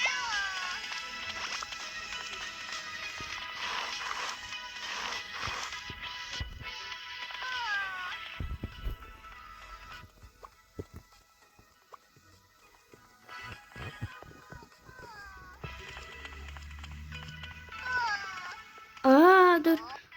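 A cat meows repeatedly in drawn-out, wavering cries, with quieter gaps between and a louder, sharper yowl near the end.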